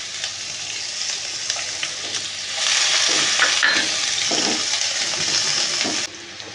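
Chopped onions are dropped into hot oil with cumin seeds, and a loud, close sizzle swells at once and holds steady before cutting off near the end.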